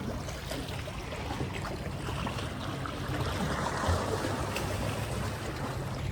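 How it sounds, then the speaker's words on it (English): Sea waves wash against a rocky shore on the Amalfi Coast in Italy, a steady broadband rush and gurgle of water with no speech, moderately loud and continuous. "I'm just sitting on a rock, listening to the sea, admiring the views."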